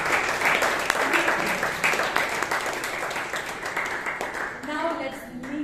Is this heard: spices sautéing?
no